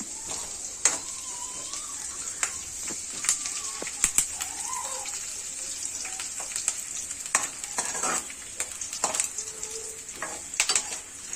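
Peanuts frying in a pan for vakkaya pulihora, a steady broadband sizzle running throughout with occasional stirring clatters and light scraping, close and moderately loud, with no talk.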